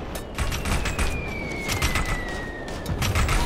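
Sustained gunfire in a firefight in the military game Operation Flashpoint: Red River, a steady fusillade of distant and mid-range shots with repeated cracks over a constant battlefield rumble.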